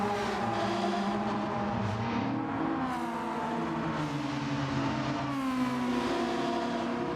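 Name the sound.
racing car exhaust resonance from outside view, racing video game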